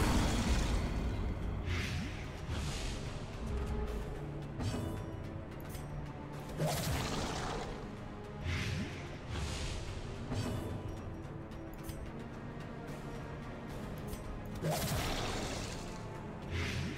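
Enemy explosions in the dungeon-crawler Darkest Dungeon, several booming blasts with crashing, whooshing tails spaced a few seconds apart over a low game soundscape, moderately quiet.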